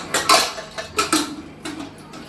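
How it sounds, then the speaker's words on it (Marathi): Small steel plate clinks onto a metal tin, then a lid is set in place, a handful of sharp metallic clatters and taps close by in a home kitchen. "त्या डब्यावर मी ही छोटीशी बशी ठेवते आणि आज झाकण लावून घेते"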